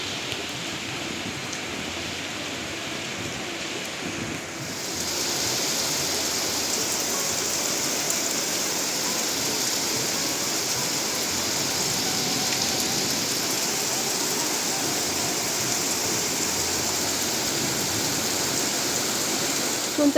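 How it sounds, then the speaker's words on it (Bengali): Steady heavy rain pours down in a dense, continuous hiss that grows louder after the first few seconds and then stays constant, with no voices. "হঠাৎ করে দেখি ঝমঝমিয়ে বৃষ্টি"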